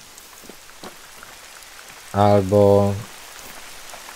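Steady rain falls in The Hunter: Call of the Wild, a soft continuous patter under a man's brief spoken word near the middle.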